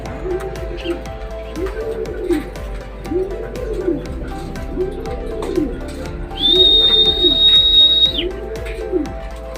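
Racing pigeons coming back during derby training are heard as a steady run of repeated low coos with a sustained whistle-like tone partway through, loud and close, with no speech.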